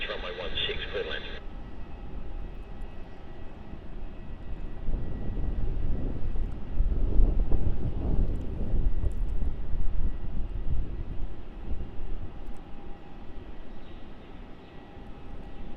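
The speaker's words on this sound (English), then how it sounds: "So our next arrival is going to be the Jetstar A320 from Brisbane" A Jetstar Airbus A320 arriving at Melbourne Airport, its engines a steady, distant roar that swells in the middle, heard under someone talking and a brief burst of radio chatter at the start.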